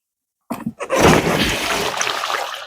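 After a moment of silence, a potted plant and its soil are tipped out into water, making a sudden close splash, then a sustained gurgling, sloshing rush that slowly subsides.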